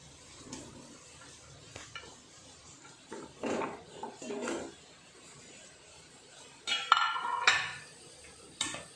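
Chunks of yam and raw banana dropped into a large cooking pot in a kitchen, giving a few scattered knocks and clattering thuds with a louder cluster of metallic clanks near the end, no talk.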